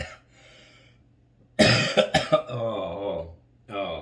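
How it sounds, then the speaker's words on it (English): Several sharp, harsh coughs burst out in quick succession from one person nearby, following a stretch of speech and then leading into more talking. "now the head hurts every time I cough."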